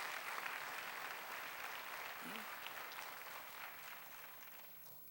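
A congregation at a Wednesday church service applauds, a continuous broad wash of clapping held at a steady level, with a faint voice briefly heard over it.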